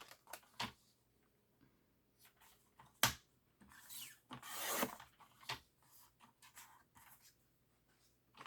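Card paper is cut and handled during card making. Quiet close scraping, rubbing and snipping sounds come in short irregular bursts, with one sharper snap.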